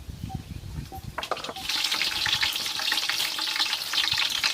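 Fennel seeds dropped into hot oil for Chettinad crab gravy, bursting into a loud, steady crackling sizzle after a brief quiet start with a few light taps.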